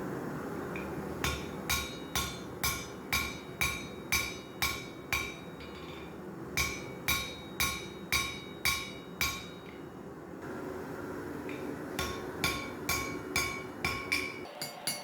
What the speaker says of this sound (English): Now I'm just going to weld up the billet.